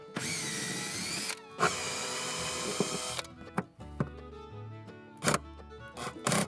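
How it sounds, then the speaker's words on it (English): A power drill whirs steadily to back out bolts from the floor cleats at the front of a Honda Ridgeline pickup bed, followed by shorter clicks and bursts of tool noise. "I have these cleats that are on the floor right up at the front of the bed, and they'll be perfect, so I'm just removing those bolts"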